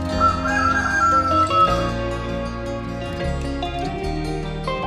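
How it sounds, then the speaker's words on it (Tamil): A rooster crows loudly and close, a long wavering call with a few bends in pitch, heard alone without speech. "சேவல், ரூஸ்டர்"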